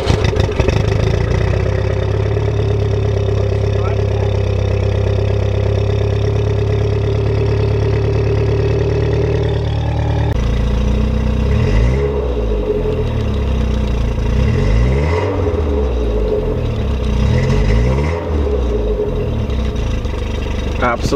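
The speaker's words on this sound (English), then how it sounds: "Shall we do a nice little Jetta cold start?" Volkswagen Jetta starting from cold, its engine settling into a steady idle and then revving up and down, loud and close throughout with a person speaking over it.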